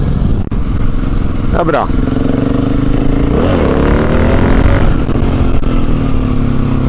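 A motorcycle engine revs loudly and close, rising and falling in pitch as the clutch is popped with throttle for a wheelie, and a voice briefly speaks over the steady engine roar.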